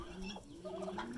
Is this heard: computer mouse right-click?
no